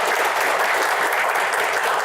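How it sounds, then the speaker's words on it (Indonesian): Dense, continuous clapping from a crowd at a panel discussion, loud and even throughout, with no pauses. "tepuk tangan untuk Pak Burhanuddin."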